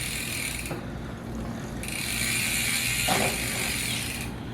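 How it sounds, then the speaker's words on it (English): An 8mm wrench works the front sprocket bolts of a mountain bike, producing repeated ratcheting clicks in bursts with short pauses between, close and moderately loud. "And we use an 8mm wrench."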